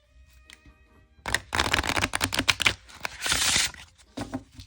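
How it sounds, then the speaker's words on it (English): A Mother Mort's Carnival 1897 deck of playing cards is riffled with a quick flurry of crisp clicks, then a softer whooshing cascade as the cards settle, close and fairly loud. "So let's see how they shuffle."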